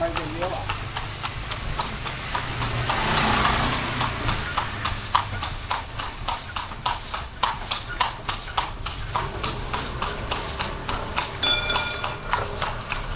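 Rhythmic clip-clop of horse hooves on pavement in Thailand, steady and close, with a person talking over it.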